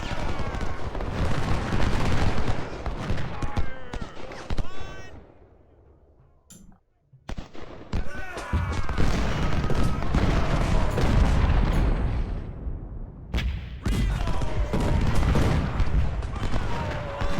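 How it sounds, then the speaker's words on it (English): Rifle volleys in Ultimate General Civil War: dense, crackling battlefield gunfire in sustained rolling bursts, broken by a short near-silent gap, with occasional heavy booms mixed in and a voice faintly under the din. "They will take a huge volley now, I think."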